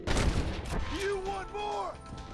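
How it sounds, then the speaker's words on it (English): Gunfire in Red Dead Redemption on the Switch: scattered shots crack beneath someone shouting in the game, with lingering echoes and background noise. "Stop shooting at me!"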